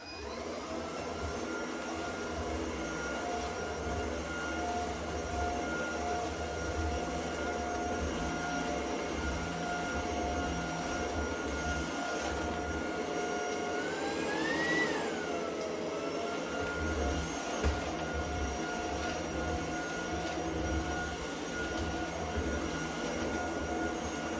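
A vacuum cleaner runs over a rug in a home with a continuous loud droning whine, nearby and steady, its pitch rising briefly midway as it is pushed along.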